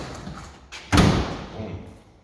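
A door on a 2010 Cadillac Escalade Luxury Edition shuts with a single solid thud about a second in, close by, followed by a brief fading rumble and quiet background.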